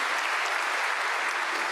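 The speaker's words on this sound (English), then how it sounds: "you can clap for that." Students clapping at the Cardozo Law commencement 2025: a dense, steady wash of applause from a large audience, moderately distant and continuous throughout.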